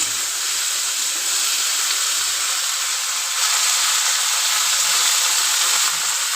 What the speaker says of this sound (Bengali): দিয়ে আমি কেটে রেখেছিলাম ভেন্ডি ওটা দিয়ে দেবো দিয়ে আমি ভালো করে একটু নাড়িয়ে দেবো